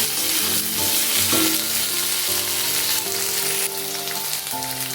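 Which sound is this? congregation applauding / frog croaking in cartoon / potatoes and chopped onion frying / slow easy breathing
potatoes and chopped onion frying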